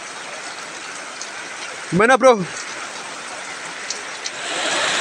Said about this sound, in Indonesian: Malah hujan deras.